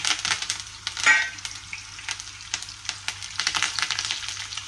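Tempering spices crackle and sizzle in hot oil for an aloo fry, a close, steady frying hiss with small pops and stirring clicks.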